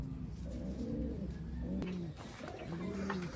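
Racing pigeons coo in low, throaty repeated phrases close by, several birds overlapping over a steady background hiss, with a faint chirp or two.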